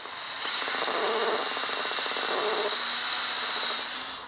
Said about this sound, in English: keep your fingers out of the path of the drill bit here